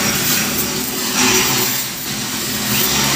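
A motor spins at high speed around 14,600 RPM, a loud, steady high-pitched whine with slight swells in intensity, close by with no talk.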